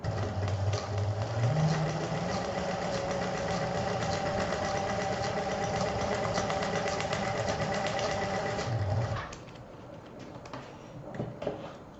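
A sewing machine stitching a patchwork foundation runs steadily at close range for about nine seconds with a whirring mechanical hum, then stops, leaving quiet handling noises.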